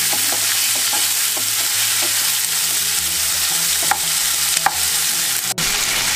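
Ginger, garlic, green chili and cashews roasting in hot oil in a pan give a continuous crackling sizzle, broken by light spatula taps and a few louder scrapes near the end, with no talking.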